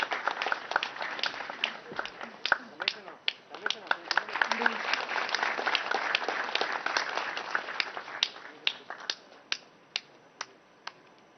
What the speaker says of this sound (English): Why don't we all clap